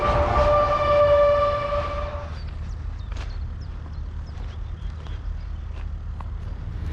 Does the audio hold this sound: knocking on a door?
no